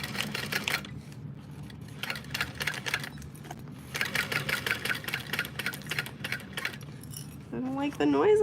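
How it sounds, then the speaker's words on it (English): Sewing machine stitching a custom order, running in rapid mechanical bursts with short pauses between, close and clear, ending with a brief voice. "I don't like the noise I'm hearing, sewing machine."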